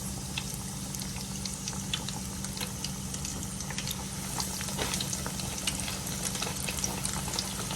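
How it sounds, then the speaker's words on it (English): A steady, crackling sizzle of six chicken wings frying in hot grease, with constant popping and bubbling over a low hum. "I'm frying 6 chicken wings."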